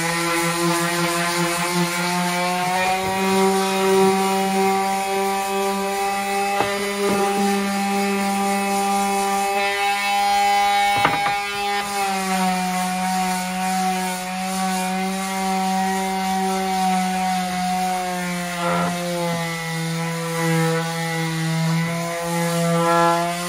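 An electric sander works a surfboard shape, giving a loud, steady motor whine that runs continuously, with its pitch dipping and shifting as pressure changes. The sound is close and there is no talk.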